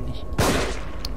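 A single loud gunshot blast from a handgun-style weapon in The Evil Within, a survival horror game against zombies, sharp attack at the start followed by a decaying tail over quiet game ambience.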